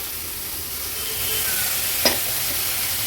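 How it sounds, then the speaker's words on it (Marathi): Prawn masala frying in a pan, Agri-Koli style, stirred with a spoon: a steady close sizzle with one sharp scrape of the utensil, no talking. "मसाला एकदा व्यवस्थित मिक्स करून घेते"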